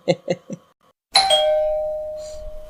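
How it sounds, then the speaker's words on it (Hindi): A household doorbell rings in a home: a sharp electronic chime rises after a few short spoken syllables, then a sustained tone slowly fades. "अच्छा जाने में भी घंटी बजती क्या?"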